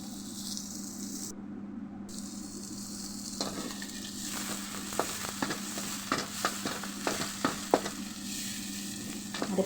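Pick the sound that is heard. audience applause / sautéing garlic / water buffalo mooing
sautéing garlic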